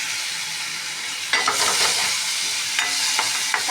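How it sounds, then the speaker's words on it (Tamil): Tomatoes sautéing with onion and garlic in a pan for brinjal curry, a steady hiss of frying with several louder stirring scrapes and bursts of sizzle, close and alone with no voices. "தக்காளி போட்டு வதக்கணும்"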